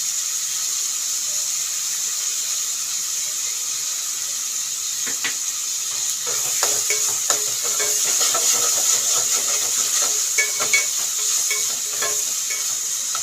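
Chopped tomatoes with onion, green chilli and rock salt sautéing in a pan, a steady soft sizzle with scattered scraping and stirring clicks that grow busier midway, no voices over it.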